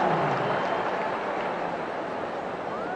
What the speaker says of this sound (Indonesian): Wow, kita tepuk tangan.